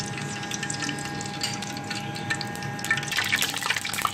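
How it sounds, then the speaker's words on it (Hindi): Curry leaves frying in hot crackling oil, a dense continuous sizzle with rapid pops and spits throughout, close and fairly loud, growing slightly busier toward the end. "तेल हमारा जो है वो गर्म हो चुका है, चरखराने लग गया है।"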